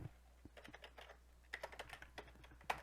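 Fingers tap out a short burst of typing on a computer keyboard, soft close clicks in two quick runs separated by a brief pause, very quiet with no talking.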